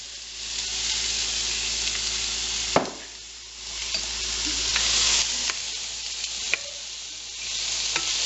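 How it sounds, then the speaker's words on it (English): Chopped onions sauteing in a pan, a loud steady sizzle with a few sharp stirring clacks and scrapes, close and alone without talk. "now we're going to saute them"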